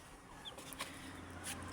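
Faint clucking from chickens and chicks in a coop in the evening, a few soft calls scattered over a low, steady background hum.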